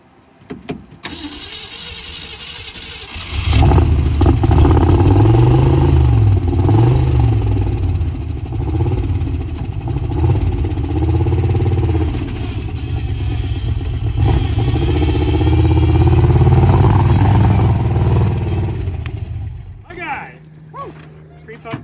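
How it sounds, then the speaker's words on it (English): An off-road vehicle engine with a worsening lifter tick starts up and runs loud and close, rising and falling through revs with a steady clattering undertone, then cuts off near the end as a voice talks over it. "the lifter tick was getting more and more violent"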